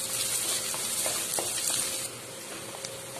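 Onion fries with ginger garlic paste for a vegetarian liver gravy, giving a bright continuous sizzle with faint stirring taps. It is close and steady and drops slightly in level partway through.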